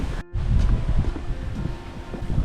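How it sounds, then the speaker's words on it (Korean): Strong wind roars steadily and loudly across the microphone, a dense buffeting rumble that briefly drops out near the start before gusting back. "바람 소리 장난 아니에요."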